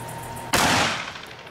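A single loud .44 Magnum revolver shot fired at a watermelon cracks out after a short quiet lead-in, then rings and fades over the next second.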